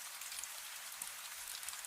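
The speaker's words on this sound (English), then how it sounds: "Outside, the rain streams down the window." Steady rain running down a window pane, a soft continuous hiss with faint scattered droplet ticks, even and unbroken throughout with no voices.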